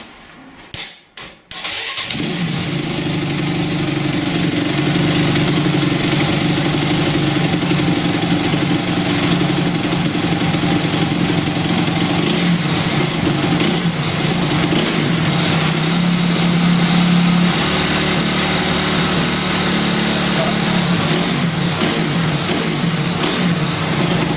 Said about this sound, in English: Right, start the bike.